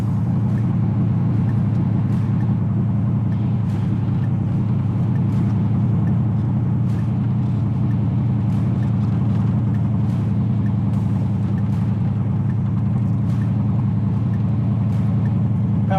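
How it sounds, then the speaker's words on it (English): A 1968 Corvette coupe cruising down the road, its steady engine drone and road rumble constant and close throughout, with no talk. "Car goes down the road nice."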